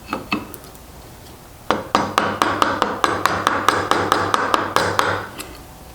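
A hand chisel chops a shallow mortise about an eighth of an inch deep into wood along a knife line, giving a few light taps and then a quick, steady run of about fifteen crisp mallet strikes, close by.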